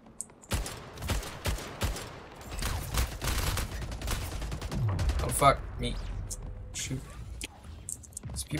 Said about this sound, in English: I shoot through portals, that's right.